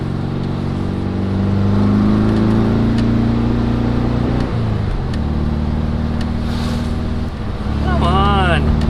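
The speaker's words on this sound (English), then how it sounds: "I'm getting wheel spin in second gear." A 1967 VW Bus engine drones steadily while its tires spin on slippery ground in second gear, with a rising, wavering whine near the end and continuous engine rumble throughout; no one talks over it.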